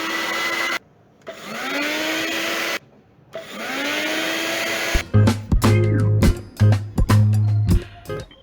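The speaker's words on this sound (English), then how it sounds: "began the vacuuming procedure all over again" Vacuum cleaner drawing dust from a camera lens, its motor whining loudly in three bursts with brief pauses, then sharp clicks and knocks of handling follow.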